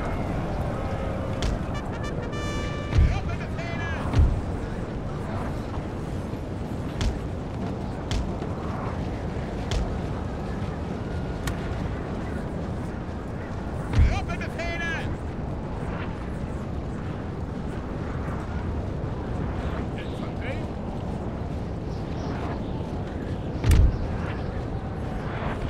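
Artillery fire in the Napoleon: Total War video game, with scattered cannon booms at irregular intervals over a dense, constant battle din of musketry and crackle, with a few louder reports standing out.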